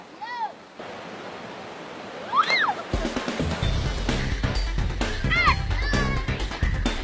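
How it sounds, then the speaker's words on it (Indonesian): A clear river runs over a bed of natural stones in Dusun Watu, Tanete Riaja, Barru, South Sulawesi, its steady rushing wash swelling louder partway through beneath children's voices and chatter. "sungai jernih yang berasal dari Sungai Ule yang mengalir di Dusun Watu"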